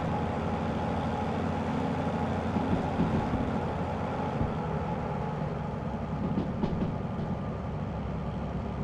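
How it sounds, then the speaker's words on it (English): A train driven in a video game gives off a steady, dense rumble of engine and rolling wheels, constant and moderately loud with a few faint clanks. "I'm driving a train, it's not loud at all."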